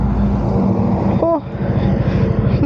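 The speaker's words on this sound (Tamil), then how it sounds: "ஃபிஃப்த்து கியர் கொஞ்சம் கஷ்டப்படுது, ஓகே தான்." A KTM Duke 200 motorcycle engine labors in fifth gear with a steady, loud drone, a brief dip in the middle before the strained hum resumes; no talking.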